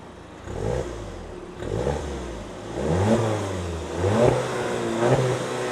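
A 2025 Volkswagen sport compact sedan with a 2-liter turbocharged engine revving through real dual exhaust tips, several rising throttle blips that climb and fall back in a rhythmic series, close and fairly loud.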